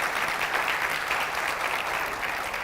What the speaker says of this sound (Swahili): Tupiga makofi tunapoelekea upande huo